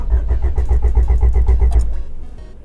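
A Honda Civic with a D16 engine catches and runs after a push start, a loud, close engine with a steady pulsing chug that settles and fades toward the end.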